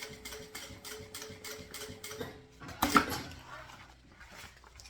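Sewing machine finishing a seam on a synthetic crossbody bag, rapid needle pulses in short even bursts, then a louder clunk and rattle of handling near the end, close and fairly quiet.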